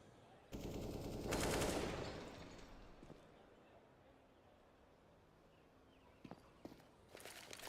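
Gunfire in a competitive shooter video game, a loud burst of rapid shots fired through walls, followed by quieter footsteps and scattered later shots, with faint commentary underneath.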